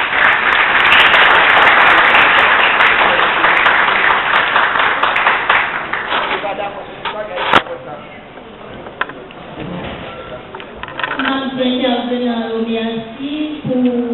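Loud sustained audience applause at a faculty lecture event, a thick wash of clapping that fades over several seconds into scattered claps and murmuring, with voices emerging toward the end.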